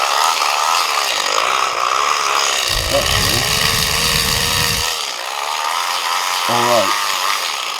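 A cheap Temu BBQ blower fan running with a loud, buzzing motor whine and a rougher burst of air noise in the middle, a person speaking over it.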